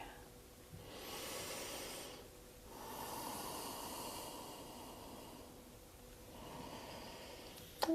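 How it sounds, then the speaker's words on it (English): Slow, deep breaths during a gentle yoga session, airy inhales and exhales rising and falling close by in long even cycles, with a small bump at the end. "I am breathing."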